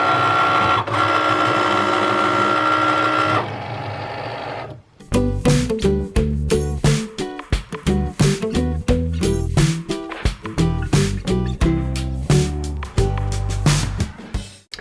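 A Cricut cutting machine works on iron-on vinyl with a close, steady motor hum. It then makes a long run of quick rhythmic mechanical whirs and stops as the blade carriage moves back and forth.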